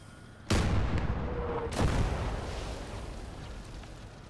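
Two heavy artillery blasts in the Call To Arms: Gates of Hell battlefield, the first about half a second in and the second near two seconds, each a loud broadband boom rolling into a long rumbling tail over steady background noise.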